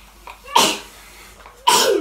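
Two sharp sneezes, the first around midway and a second near the end, each a sudden loud burst with a brief inhale before, close to the listener.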